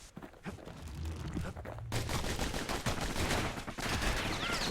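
Twin slinger pistols fire in the video game Bastion, a fast, dense volley of gunshots that grows louder and continues steadily under game music and effects.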